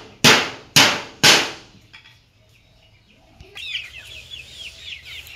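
Three sharp, loud bangs in quick succession give way to a short stretch of quiet, then chickens cluck nearby in a run of short, rising calls.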